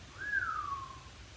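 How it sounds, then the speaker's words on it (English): A single rising-then-falling whistled note from a person, soft and fairly close, drifting over a quiet room with low background hum. "I don't know why I whistled"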